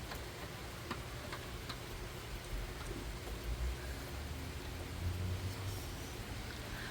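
Steady soft rain patter with faint scattered drips ticking through it, constant and low in level, no voices.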